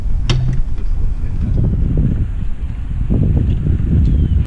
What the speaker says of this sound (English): It's really windy, it's fixing a storm